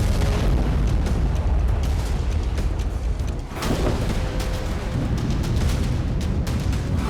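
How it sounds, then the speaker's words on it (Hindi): A heavy, sustained roaring blast from an Israeli missile strike in Jabalia, Gaza, with a brief dip before the rumbling debris noise of collapsing houses continues loud and broadband. "जबालिया में 7 मई के दोपहर को इजरायल की मिसाइल गिरी और जोरदार धमाका हुआ।"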